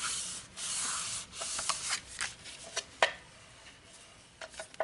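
A paper Christmas card is burnished along a score mark, giving soft, close rubbing strokes and faint scraping swipes in a quiet room.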